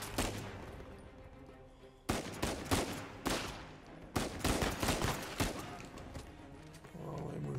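Gunfire in the video game Uncharted 4: repeated bursts of rapid automatic shots in several volleys with short gaps, loud and close, with a few single reports, and brief talk from a player at times.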